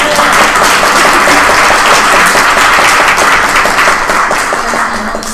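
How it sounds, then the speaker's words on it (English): Sustained audience applause at a symposium, dense and steady throughout, fading slightly near the end. "Big round of applause"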